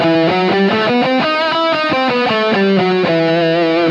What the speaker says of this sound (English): So for example, harmonic minor in just E